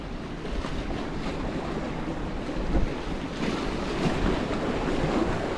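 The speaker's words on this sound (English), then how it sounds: "I just wasn't expecting it to be as windy as this" Strong wind gusts and buffeting across the microphone beside the water during a bass fishing outing, a steady roar that rises and falls throughout with no talking.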